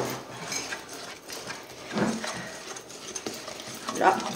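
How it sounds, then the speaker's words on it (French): Pineapple cake batter is mixed with a utensil in a bowl, giving soft, uneven scraping and stirring strokes close by, with a few brighter clinks near the end and no talking. "on mélange pendant quelques instants afin d'obtenir une pâte lisse"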